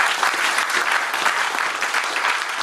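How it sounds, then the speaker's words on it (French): A church congregation applauds and cheers in worship, giving a dense, continuous burst of clapping that fills the room. "Est-ce que tu peux acclamer pour les Seigneurs?"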